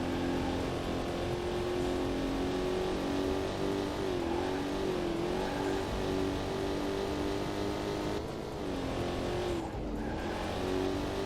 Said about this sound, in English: Engine noises in this game